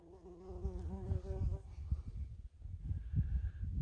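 A bee buzzes close by at a rocky outcrop where massive chalcopyrite sulfide is being hammered out, a wavering drone near the start that gives way to rustling and handling noises.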